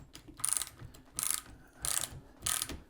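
Milwaukee long cordless ratchet spinning in four short bursts, each a buzzing whir of about half a second with gaps between, close and fairly quiet, no voices.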